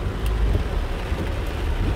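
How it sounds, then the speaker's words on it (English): Heavy rain drums steadily on a car driving through a strong Las Vegas rainstorm, a dense continuous wash of water noise with low road rumble underneath, loud and close, with no talking. "I now try to pass through these rains."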